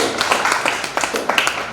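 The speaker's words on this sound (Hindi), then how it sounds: "पर तालियां बजनी चाहिए" Audience applause at a mid-brain activation blindfold reading demonstration, a steady wash of many hands clapping with no voices, fairly loud and close throughout.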